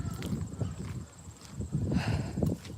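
A pony moves about near its food and water, with soft, uneven thuds of hooves on the ground and rustling, heard close and moderately loud without talk.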